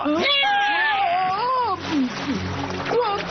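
A cartoon cat meows in a run of wavering, high-pitched cries from an animated adventure scene. The cries are loud and close, and a splashy, noisy stretch follows them.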